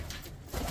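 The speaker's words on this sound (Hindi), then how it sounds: "तो ये हम सारे कबूतर छोड़ के इनका एक साथ आपको शौक करा देते हैं" Pigeons being released coo softly nearby in a short, low murmuring call.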